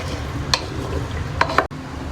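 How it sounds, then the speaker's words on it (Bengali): Spoon stirring egg and potato curry with ground garam masala in a pan, a faint steady sizzle underneath with three brief scraping clinks against the metal, then a sudden cut near the end. "এখন নাড়বো, অল্প একটু ঢাকা দিয়ে নামিয়ে ফেলবো।"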